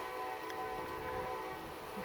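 A CSX grain freight train led by a GE locomotive passes in Pembroke, North Carolina, giving off a steady, distant rumble with faint tonal whining.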